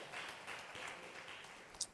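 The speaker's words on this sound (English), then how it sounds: "Let's welcome him with a round of applause" Soft applause from a seated audience welcoming a guest at a Chennai chapter talk event, faint and fairly even, with one sharper clap near the end.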